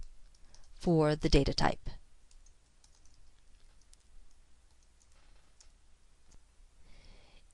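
Soft, scattered clicks of computer keyboard typing while writing ActionScript code, faint and irregular after a short burst of someone talking.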